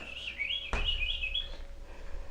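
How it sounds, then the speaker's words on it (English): Pet birds chirp inside a cage, with a close, high warbling twitter lasting about a second and a sharp click partway through, fairly faint, no talking. "Yeah, they're all chirping."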